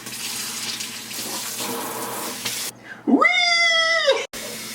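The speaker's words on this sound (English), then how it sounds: "Will water come out of the faucet?" Water rushing from a Kohler Simplice kitchen faucet into a sink, a loud steady hiss running for several seconds, then a long drawn-out cat meow rising over it before the flow sound returns.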